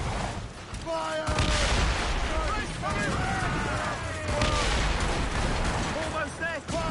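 Ship cannons boom in repeated heavy volleys during a naval battle in Assassin's Creed Rogue, loud rumbling blasts layered with shouting crew voices and musical tones.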